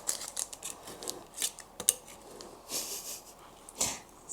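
Cooled pound cake has its sides scraped with a utensil against the pan, a series of quiet, irregular scratchy strokes and clicks, close and soft, with no talking.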